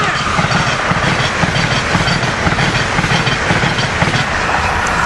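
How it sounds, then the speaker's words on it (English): Northbound Amtrak Regional train hauled by an ACS-64 electric locomotive passing close by, a loud continuous roar of rolling wagons with rhythmic wheel clatter and hiss, steady throughout. "Here we got northbound Amtrak Regional."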